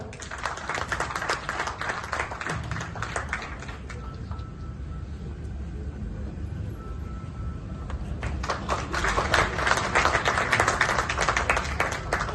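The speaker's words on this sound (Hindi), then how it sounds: "जोरदार तालियां दोस्तों" Audience applause welcoming a guest at a Gujarat University event on blood donation and thalassemia prevention, bursts of hand clapping that fade to a quieter stretch in the middle, then swell again louder near the end.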